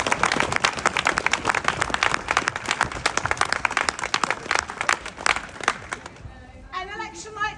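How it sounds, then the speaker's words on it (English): Audience applauding at a political campaign event, dense lively clapping that holds for about six seconds and then fades out as a voice starts speaking. "I would just like to give a huge round of applause, please"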